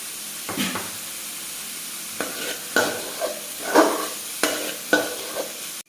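Carrots sauté in a pan for chicken egg roll filling, a steady close sizzle broken by several soft scraping stirs of a spoon spread across about six seconds.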